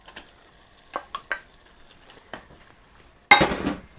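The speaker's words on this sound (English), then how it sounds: "Stir them around a bit in there." Chicken livers and soft onions are stirred in a pan, giving a few scattered scrapes and clinks, then a louder burst of sizzling near the end.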